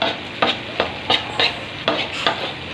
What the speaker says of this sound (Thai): เติมใบกระเพราลงไปคนให้มันเข้ากันครับ